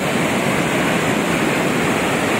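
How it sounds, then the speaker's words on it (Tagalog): Broad, steady roar of heavy water gushing at Aliwagwag Falls, a large multi-tiered waterfall, heard up close as a constant loud wash of white noise with no breaks and no voices. "grabe yung bulwak ng tubig"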